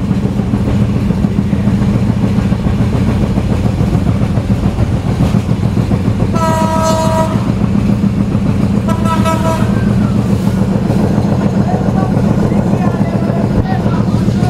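Kapotaksha Express, a broad-gauge train running between Khulna and Jessore in the rain, rumbles steadily and loudly throughout, with two short horn toots in the middle.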